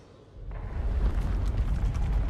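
A deep, rumbling blast swells in after a quiet start and keeps roaring with a heavy low-end boom, explosions in Guild Wars 2.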